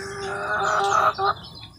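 A chicken calls out close by in a rural yard, a loud clucking, crow-like cry with two strong bursts in quick succession, then fading into quieter background.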